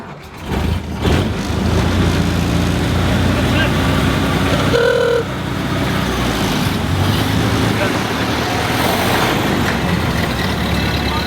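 A restored 1956 Ford F100 custom cab truck with a carbureted engine and choke runs at a steady, loud, close idle after a brief rough start, with voices talking over the continuous rumble.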